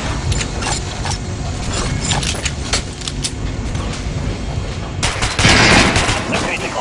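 Rapid automatic gunfire at an armored training dummy in Metro Last Light, bursts of close, sharp shots with metallic impacts, one heavier burst near the end, game ambience underneath.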